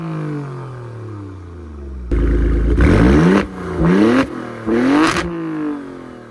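A pair of 2024 Alfa Romeo Stelvio Quadrifoglio SUVs rev hard, starting from a low idle and jumping into loud, close throttle blips with rising and falling engine pitch, three or four bursts in a row.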